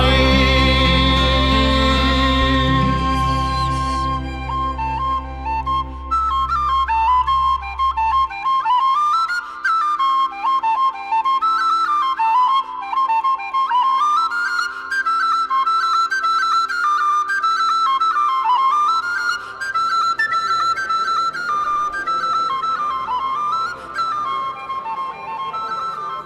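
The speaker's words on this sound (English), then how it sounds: "That's some sweet whistle playing." A tin whistle plays a lively Irish tune solo, its ornamented melody running loud and clear for the whole stretch after a sustained opening chord fades out.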